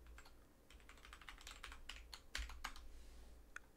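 Fingers tap out a password on a computer keyboard while setting up PiHole, a quick irregular run of close, crisp key clicks with brief pauses and one last isolated press, with no talk.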